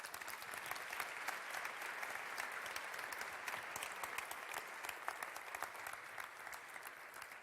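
An audience at a conference session on child labour gives sustained, even applause, a dense patter of many hands heard at a distance.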